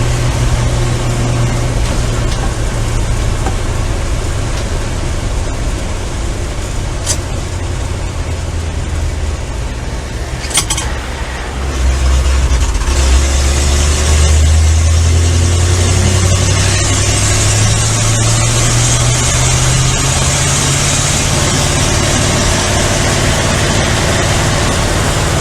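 A 1967 Chevy C50 truck engine droning while driving, a loud low rumble with rising and falling pitch as the truck accelerates and shifts, with a brief dip in the middle and a harsher mid-range roar later.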